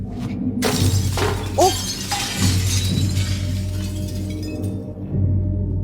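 Glass shatters loudly in the video game Little Nightmares, with several sharp crashes and tinkling shards over a steady low game hum.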